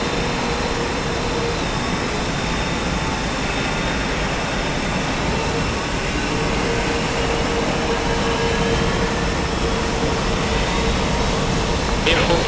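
Airbus A321 jet engines in Microsoft Flight Simulator 2020 at Frankfurt apron, heard as a steady, loud whining drone with a high tonal hum, running continuously under radio talk.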